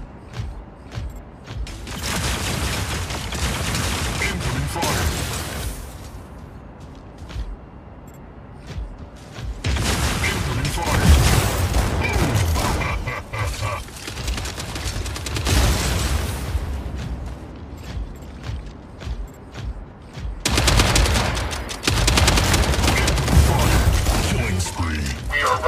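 Incoming gunfire in the mobile mech combat game Mech Arena comes as three long loud bursts of dense blasts and cracks, separated by quieter gaps, with game voice callouts over the action.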